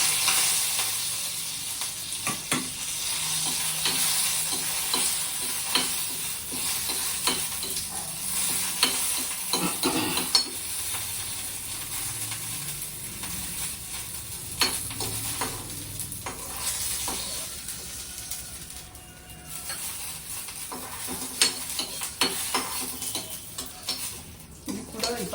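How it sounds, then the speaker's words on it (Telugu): Curry leaves sizzle in hot oil for a chutney, a steady close crackle running throughout with light stirring clicks and scrapes, and no talking. "ఇప్పుడు కొంచెం నూనె వేసి కొంచెం కరివేపాకు రెబ్బలు కూడా వేస్తున్నాను"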